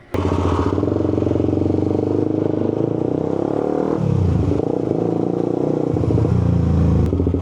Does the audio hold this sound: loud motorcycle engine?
yes